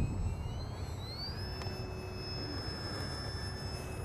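A Freewing FW190 RC warbird model's electric motor spools up for takeoff on a runway, a faint whine rising in pitch then holding steady over a constant wash of background noise.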